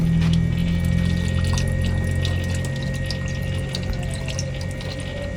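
Water from a public hand pump in Clark, Pampanga runs and splashes steadily, a close, continuous liquid rush with a faint tonal hum underneath and no talking.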